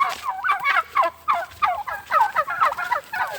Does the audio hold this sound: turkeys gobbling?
yes